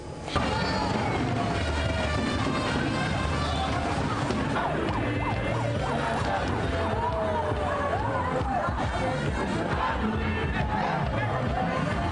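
Hundreds of political supporters celebrate in the streets of Ekiti alongside a governor-elect's parade, a loud, dense crowd din with shouting, chatter and a siren-like wail, continuous throughout, with a voice talking over it.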